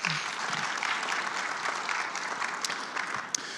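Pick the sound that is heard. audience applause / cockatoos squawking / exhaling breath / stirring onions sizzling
audience applause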